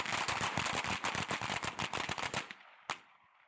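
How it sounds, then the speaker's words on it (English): Rapid gunfire rattles off about twenty rounds in quick succession, loud and close, then stops, followed by one last isolated shot after a brief pause. "Oh, they fired. I don't know how many rounds they shot, but that was quick."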